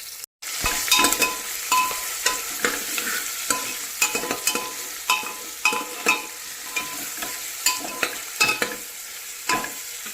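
Ginger-garlic paste and cardamom fry in oil for chicken pulao, a busy sizzle punctuated by repeated sharp spatula scrapes and clicks against the pot.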